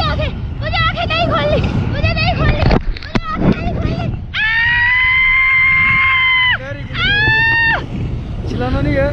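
A woman screams loudly while parasailing over water. Long sustained shrieks come alongside other short wavering cries, with wind and chatter from people nearby.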